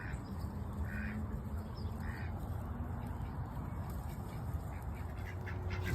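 Ducks quack a few times in short bursts against a steady, noisy park background, not very close.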